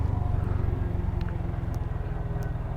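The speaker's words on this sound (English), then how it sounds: "Ah, it's a cool plane." A plane drones steadily in the background, a low continuous hum that holds at moderate loudness with no one speaking.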